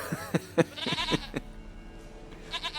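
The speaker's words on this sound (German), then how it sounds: "Goat of mine, dearest, sweetest goat." A goat bleating in the video game The Witcher 3, several short wavering bleats close up in the first second and a half, then quieter bleats near the end.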